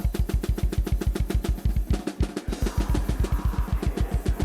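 A fast, driving drum groove with kicks and snares, washed in reverb that leaves a lingering tail; one brief dropout midway, no voices.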